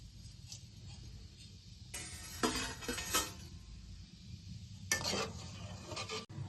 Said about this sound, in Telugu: స్టవ్ మీడియం ఫ్లేమ్లో పెట్టుకుని వేపుకోవాలి, తొందరగానే శనగపిండి కదా వేగిపోద్ది